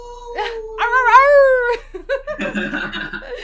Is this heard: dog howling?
yes